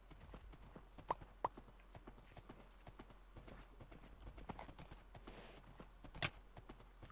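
Hooves clip-clop in a video game as a horse is ridden, a quiet, irregular run of soft hoof knocks with a few sharper strikes.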